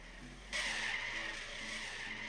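A car in the Trader Life Simulator game accelerates and skids, its engine hum joined by a sudden sustained tire squeal that holds at a steady, moderately loud level after a short quiet start.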